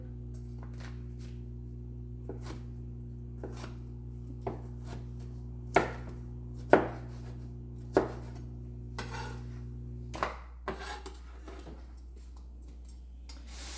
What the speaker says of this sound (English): these tomatoes, I think I'm just going to chop those up too